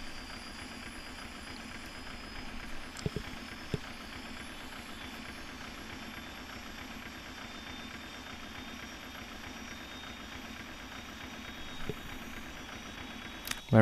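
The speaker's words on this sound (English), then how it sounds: "You can see that the engine now spools up and" A PMDG 777 jet engine spooling up in a flight simulator, a steady low, faint hum and whine with a few small clicks, no voice over it.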